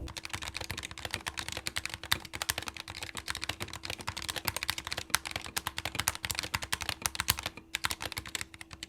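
Mechanical keyboard keys clack in a fast, steady typing run, near and alone at a moderate level, with a faint constant hum underneath.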